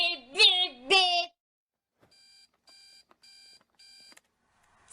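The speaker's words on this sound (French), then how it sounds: "t'as pas un réveil super énervant qui fait genre bip, bip, bip, bip" A high, animated voice gives way to an electronic alarm clock beeping in four evenly spaced short bursts, thin and fairly quiet against silence.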